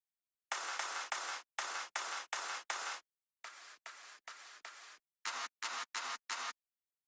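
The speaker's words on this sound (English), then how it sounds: "There are 3 claps that I have, 3 different layers at different volumes, and they sound like this." Three layered clap samples in dance music production, with crisp, sharp claps played in quick groups of three and four. The claps have bright attacks and short decays, are alone and close, and are separated by brief silences.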